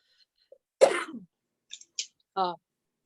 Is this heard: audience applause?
no